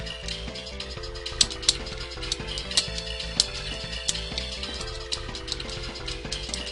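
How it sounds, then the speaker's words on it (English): An elevator in the SNES game Shadowrun powers up and travels, giving a looping mechanical churn with a clicking, ratchet-like pulse and sharp periodic ticks over a steady hum. "Elevator activated."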